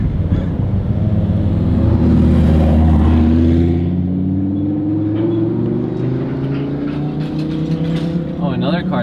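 A McLaren sports car engine revs loudly at a car show, a strong rising and falling roar that swells early and holds steady, with crowd chatter underneath.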